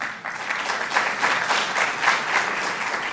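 An audience at an honors event in New York claps steadily in sustained, dense applause with no one speaking over it.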